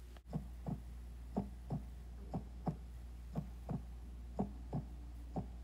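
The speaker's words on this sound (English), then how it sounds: "that's the sound of a heart beating" A human heart beats in a slow, regular double thump, about a dozen soft low pulses over a constant faint hum, with no voices.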